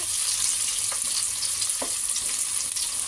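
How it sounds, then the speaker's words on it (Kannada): Ingredients fry in a generous amount of hot oil for an egg donne biryani, giving a constant close-up hiss and crackle with a few faint stirring knocks. No voices are heard. "ಈಗ ಇದನ್ನು ಒಂದು 30 ಸೆಕೆಂಡು ಫ್ರೈ ಮಾಡ್ಕೊಳ್ಳೋಣ ಆಯಿಲಲ್ಲಿ."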